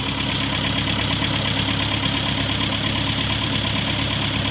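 A Farmall Cub tractor engine idles steadily after a cold start, a loud, close, continuous chugging rumble with a slight knocking edge and no pauses.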